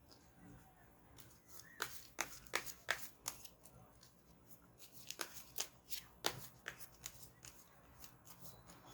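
Tarot cards being shuffled by hand, a series of quick crisp riffling bursts in uneven clusters, close and fairly quiet with soft pauses between.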